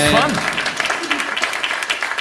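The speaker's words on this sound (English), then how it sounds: "Round of applause for our TV show" A live audience breaks into applause for a New York TV show taping; after a brief voice at the start, dense clapping runs steadily to the end.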